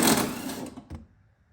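A power tool whirs loosely while removing a 13 mm strut top bolt on a Ford Escape, then cuts off abruptly, followed by a short clunk and near silence.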